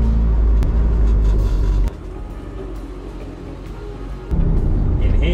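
An Austin Mini rumbles steadily while driving, drops to a quieter idle for a couple of seconds as it parks, then the engine note rises again.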